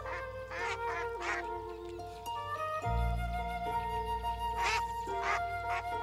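Ducks quack in short, raspy bursts, a few calls in quick runs close by, with a faint tonal hum behind them and no talking.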